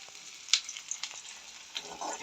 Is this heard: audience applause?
no